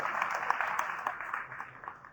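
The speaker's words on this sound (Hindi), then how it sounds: "आप अपने लिए भी जोर से एक बार ताली" An audience at a scholarly gathering in Vrindavan breaks into dense applause, steady and moderately loud, fading slightly toward the end.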